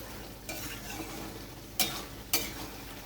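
Ridge gourd, potato and poppy-seed paste stirred in a pan, giving soft scraping under a faint steady sizzle, with two sharper spatula knocks near the end.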